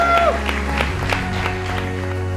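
Audience applause at a lifetime achievement presentation during the 15th Arany Medál award ceremony, a dense steady wash of many hands clapping throughout, with a brief tonal sound and some background murmur near the start.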